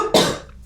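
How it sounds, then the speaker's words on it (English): A single sharp cough bursts out close up, loud at onset and then trailing off into a quiet room. "I still have my cough"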